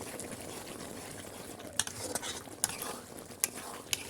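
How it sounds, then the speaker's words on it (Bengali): Chicken curry with fried peas and garlic being stirred in a pot, giving a soft steady sizzle and bubbling with a few sharp clicks of a spoon against the pot. "এখন ভালোভাবে নেড়ে নিচ্ছি"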